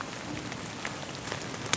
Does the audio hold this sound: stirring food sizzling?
no